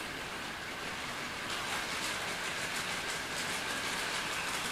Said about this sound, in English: Don't mind the train in the background.